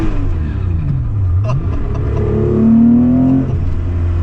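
A Porsche sports car engine revs up and accelerates, its tone climbing to a loud, sustained high-pitched whine before easing off, close by.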